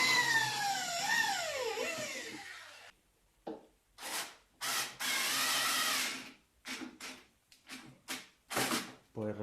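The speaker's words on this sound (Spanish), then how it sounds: "con el taladro y una broca muy finita de metal, la más finita, haremos unos agujeros aprovechando los que ya llevaban los aros para tal menester" An electric drill with a very fine metal bit bores holes through metal barrel hoops during a wooden barrel restoration, heard as a series of loud, close bursts of whining drilling separated by short pauses.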